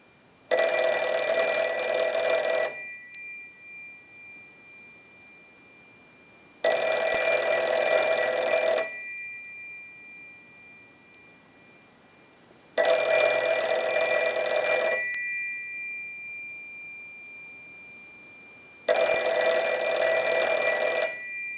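An Automatic Electric 902 rotary wall telephone's bell rings in four long bursts, each about two seconds, with roughly four seconds of ringing decay between them.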